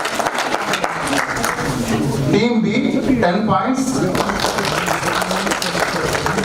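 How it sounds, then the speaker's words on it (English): Quiz competition audience gives a continuous wash of applause for the competing teams while an announcer reads out scores over it. "So give a big round of applause for all the teams."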